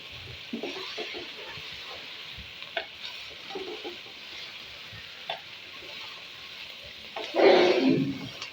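Long-cut capsicum and mixed vegetables stir-fried for chicken noodles hiss and sizzle steadily in a pan, with soft scraping stirs throughout and a louder burst of sizzling near the end.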